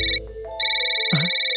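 Mobile phone ringtone for an incoming call, a bright electronic melody with sustained high tones and a brief dip, playing loud and close with no voices over it.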